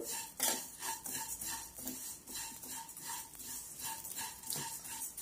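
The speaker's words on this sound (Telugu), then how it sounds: "1 టేబుల్ స్పూన్ నెయ్యి వేసుకొని వేపుకోండి." Vermicelli fries in ghee in a pan while a spoon scrapes and clinks against the metal in steady, repeated strokes, fairly faint and close, with no talking.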